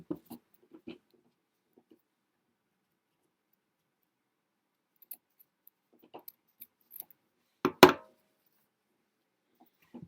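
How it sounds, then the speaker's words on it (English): Scissors snip paper for a Dollar Tree bunny decoration, a few faint quiet clicks scattered across quiet stretches, then one louder crisp cut near the end. "I'm going to clean it up a little bit with my scissors here."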